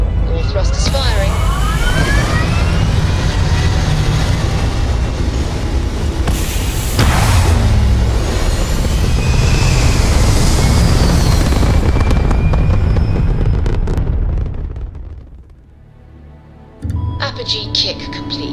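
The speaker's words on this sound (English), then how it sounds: "All thrusters firing." Spaceship thrusters firing in Starfield give a loud, sustained roaring rumble with rising whooshing tones for about fifteen seconds. The roar then cuts away to quiet before a brief electronic burst.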